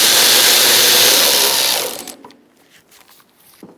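A ratchet tightens a control arm bolt on a Chrysler 300, running as a loud, close, continuous whirring burst for about two seconds before cutting off to faint clicks and shuffling.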